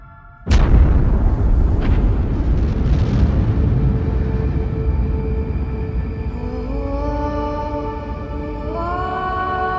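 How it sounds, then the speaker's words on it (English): An exploding star is rendered as a cinematic sound effect: a sudden loud blast hits early, then a long rumbling roar carries on and fades, with rising tonal swells near the end. "the star collapses and then explodes with the brightness of 1 billion suns"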